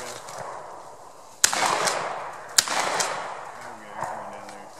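Two sharp shotgun blasts while bird hunting outdoors, a second or so apart, each followed by a brief rumbling tail over faint background noise.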